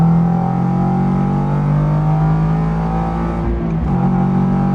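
A 2023 Toyota GR86 engine drones steadily at a low pitch, a rich exhaust note holding throughout with a brief dip near the end, fairly loud and close.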